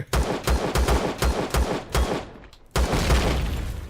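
Automatic turret fire in the video game Empyrion, loud rapid bursts of sharp repeated shots with a brief pause before another volley resumes.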